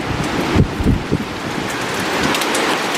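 A storm blows in over a garden greenhouse at night, loud rushing wind and heavy rain with gusty low rumbles early on, then a steady roar.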